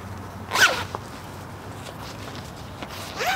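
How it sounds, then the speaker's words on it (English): A nylon zipper on the carrying bag of a Lodge Dutch oven table is pulled open in one quick, close zip, followed by faint soft handling noises and a short second zipping sound at the end. "We'll take our bag and unzip it here."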